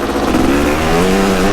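A Kawasaki KX500 big-bore two-stroke dirt bike engine revs loud and close on a mountain ride, a steady buzzing roar with rising harmonic pitch sweeps and no talk over it.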